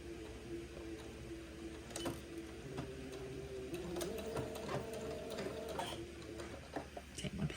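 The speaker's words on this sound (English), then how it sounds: "I will sew the lining to the outer garment without sewing the neck or sewing the bottom of the sleeves yet" A sewing machine stitches lining onto a baby garment, a steady close mechanical whir with fast ticking and a few short clicks, running without talk.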